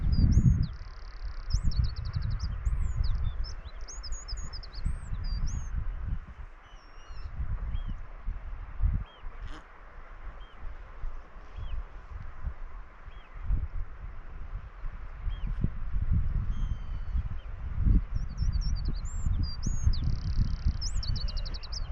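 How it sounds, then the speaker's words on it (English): Seabirds calling on the Treshnish Isles, scattered high chirps and cries over a constant low rumble of sea and wind, with duck-like quacks mixed in; the birds sound moderately distant. "All night, just the sounds of birds and the sea."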